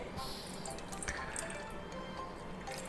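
Water drips and trickles steadily as salted radish and carrot are squeezed by hand, with close, soft splashes and light liquid patter throughout and no talking.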